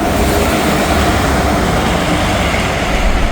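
Norfolk Southern freight train NS 179 rolling past in the snow, a loud, continuous low rumble and rail roar that holds steady from start to finish without voices.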